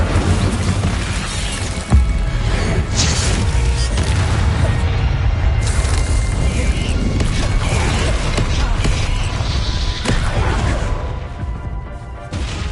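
Fire spell cast in the video game Hogwarts Legacy, a loud crackling burst amid continuous dense combat noise with crashes and booms, sustained throughout, one sharp impact near the start.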